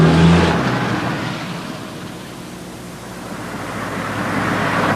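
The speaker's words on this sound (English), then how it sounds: "When the car is turned, put the gear selector in drive and step on the gas." A car accelerates hard out of a reverse J-turn on a road, a loud broad engine roar that surges at first, dips, then builds again with no talk.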